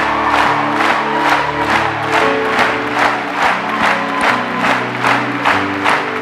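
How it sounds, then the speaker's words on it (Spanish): A large congregation at a church conference claps in a steady rhythmic beat, roughly twice per second, with cheering and shouts layered over the clapping and instrumental music beneath. "Come on, do it louder."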